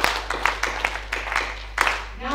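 Children at a child protection conference performing a rhythmic sound clap, several sharp clap bursts in a loose pattern over a steady low hum, with a voice speaking between them.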